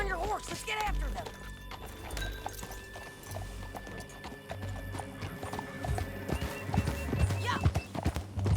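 Horse hooves clip-clop at a gallop in the Red Dead Redemption 2 video game, with a whinny, while people talk over the steady hoofbeats and background score.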